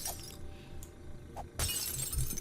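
Glass smashes in the game 7 Days To Die, a sharp bright shatter breaking over a quiet background after a couple of faint clinks.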